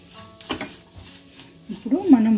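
Chilli powder is stirred into a potato and methi curry with a few scraping clinks of a spoon against the pan and a soft sizzle, followed by a brief voice near the end.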